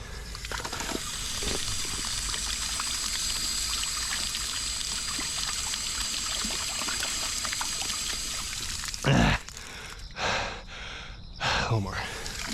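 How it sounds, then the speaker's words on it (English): A steady trickle of water runs from an outdoor tap or fountain during a 10-mile long run, a continuous close splashing stream. The runner's breathing and short sounds are heard toward the end. "Let's grab some water here."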